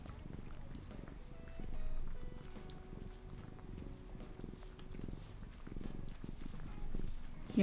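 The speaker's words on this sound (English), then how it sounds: "Such a loud purr baby." Cat purring loudly, a low rumbling continuous purr with rhythmic pulses throughout, close and steady, with a voice speaking over part of it.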